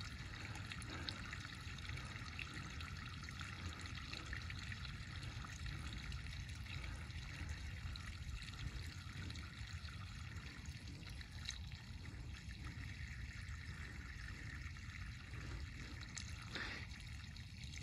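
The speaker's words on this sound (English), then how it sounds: "It may go and stay a small trickle like that. I hear it gurgling." Quiet water trickles and gurgles through a pond siphon losing pressure, a faint steady outdoor wash with no talking.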